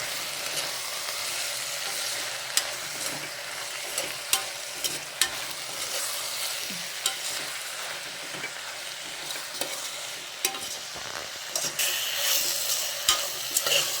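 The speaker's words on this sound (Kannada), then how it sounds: "ನೋಡಿ ಈ ಥರ ಫ್ರೈ ಮಾಡ್ಕೊಳ್ಳಿ ಚೆನ್ನಾಗಿ ಫ್ರೈ ಮಾಡಿಬಿಟ್ಟು ಎಲ್ಲ ಮಸಾಲೆ ಎಲ್ಲ ಒಂಥರ ಘಮ ಬರುತ್ತೆ ಅಲ್ಲಿವರೆಗೆ ಹುರ್ಕೊಳ್ಳಿ" Masala paste for kaal gojju fries steadily in a pan, a continuous sizzle punctuated by frequent scraping and clinking of a spatula as it is stirred, close and fairly loud with no voices.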